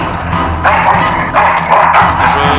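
A dog barks repeatedly in the video game Full Throttle Remastered, loud, close bursts over a steady game soundtrack.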